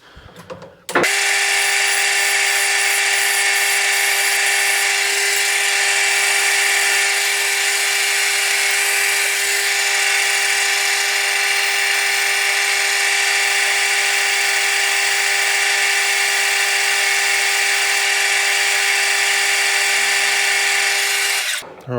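A steady, high-pitched power tool whine runs nonstop for about twenty seconds, loud and close, with no talking over it, as a power tool polishes the metal of a jockey wheel handle.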